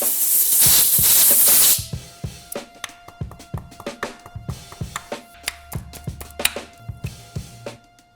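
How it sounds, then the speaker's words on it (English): Wet silicone lubricant sprayed from an aerosol can during BMW engine work: a loud, steady hiss lasting under two seconds, followed by a run of close metallic taps and clicks. "then I spray it with some wet silicone afterwards"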